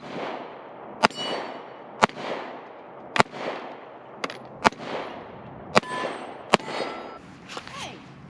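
Sharp, loud gunshots from a 9mm PSA Dagger Micro pistol ring off steel targets outdoors: seven separate reports at uneven intervals about a second apart, each cracking and then ringing out in a metallic decay.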